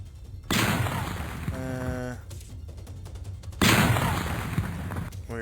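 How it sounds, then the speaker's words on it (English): Two sharp gunshot sound effects ring out during a tabletop game session, each a sudden loud bang that trails off into echo, with a short tonal sound playing between them. "Did you guys hear that gunshot?"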